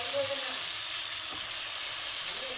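Eggplant pieces dropped into a hot pan with turmeric give a continuous, dense frying sizzle that stays loud and close throughout.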